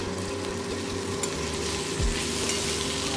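Potatoes fry in oil in a pan for a kachki fish teljhal, with a loud, continuous sizzle and occasional stirring scrapes, close up, with no voices.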